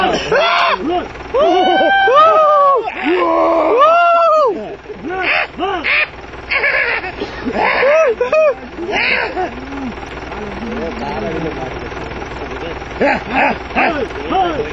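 A group of people screams and yells loudly together at wild elephants during a chase, with several voices shouting in bursts, some whooping calls, then quieter talk.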